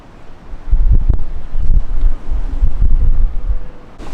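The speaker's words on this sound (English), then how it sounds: "It's so freaking windy." Strong gusting wind buffets the microphone at a wing foiling and kiting spot, a loud low rumble that swells and drops in waves with no one speaking.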